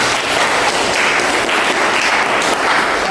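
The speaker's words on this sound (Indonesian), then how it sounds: "Tepuk tangan untuk saya." Classroom applause in an Indonesian school lesson, many hands clapping in a steady, dense burst that holds at an even, fairly loud level throughout.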